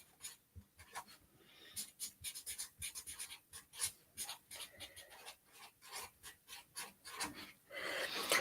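Pen or pencil writing by hand on paper, a close, quiet series of short scratchy strokes in an irregular rhythm, ending in a longer continuous rub.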